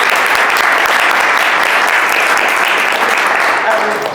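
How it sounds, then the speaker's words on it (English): Loud, dense applause from an audience at a startup talk event, a steady wash of many hands clapping that continues without a break for the whole stretch and fades slightly at the end. "Can we all please give a really big round of applause to Storm?"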